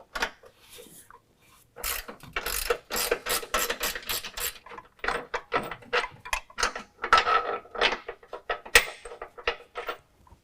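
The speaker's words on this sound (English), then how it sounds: "go ahead and remove the top bolt, also using the 18 millimeter." A ratchet wrench with an 18 mm socket loosens a top bolt on a 2018 Jeep JL 2-door during a lift kit install, giving bursts of quick metallic clicks in an irregular rhythm, close and fairly loud, with no talking.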